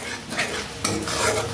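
Fish masala with ground fennel and ginger paste sautéing in a pan, a close, continuous sizzle with scraping stirs and a louder clatter midway, no voices.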